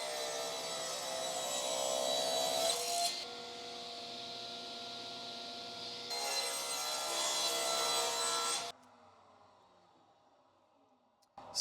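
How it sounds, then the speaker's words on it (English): A saw fitted with a 50-tooth combination blade rips through wood, a steady loud whine broken into two cutting passes with a brief drop between, before the blade winds down to quiet. "let's start by making the rip cut."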